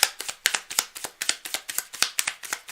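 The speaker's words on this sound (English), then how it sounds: "Meanwhile, I'm going to shuffle." A deck of playing cards being shuffled close up, a rhythmic series of about a dozen crisp riffling bursts in quick succession, with no voice over it.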